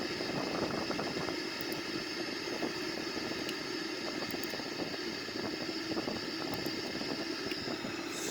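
Boeing 787-9 jet engines in a flight simulator game, a steady broadband roar with a low rumble holding at constant loudness throughout, faint ticks sitting over the drone and no voices.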